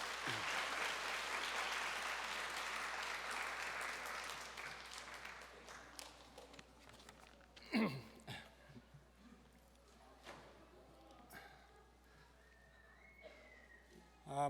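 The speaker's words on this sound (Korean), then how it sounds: "힘찬 박수로 맞아주시기 바랍니다" Congregation members in a church applaud to welcome a speaker, with a full burst of clapping that fades after about five seconds, followed by quiet room sounds, a thump and a voice starting to talk.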